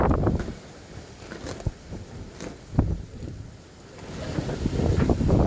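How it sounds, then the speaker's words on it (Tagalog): Strong Typhoon Kristine wind in Naic, Cavite, buffets the microphone in heavy gusts, rising and falling with roaring swells and rattling bursts, no voices. "wala no lakas talaga te"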